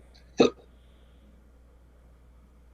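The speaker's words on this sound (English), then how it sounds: "And all of a sudden I have hiccups." A single sharp hiccup from a man, loud and close, in a quiet indoor room with a faint sound starting right at the end.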